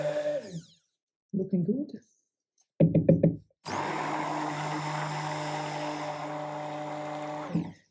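A stick blender whirs through pink cold process soap batter, with short bursts and then a long steady run close by, and a voice speaks briefly between the bursts.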